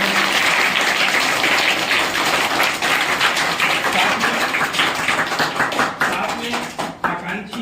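Loud, sustained applause from a crowd at a primary school ceremony, dense continuous clapping filling the whole stretch before tapering slightly near the end.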